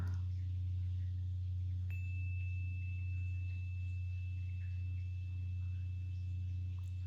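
Steady low humming tones hold evenly throughout, with a faint high sine tone entering partway and sustaining quietly.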